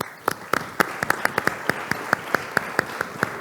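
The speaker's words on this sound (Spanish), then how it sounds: "Adelante, Alberto, un fuerte aplauso" A few people clap together at a talk on adolescents in Panama, sharp, evenly spaced claps ringing out fairly close with little else beneath them.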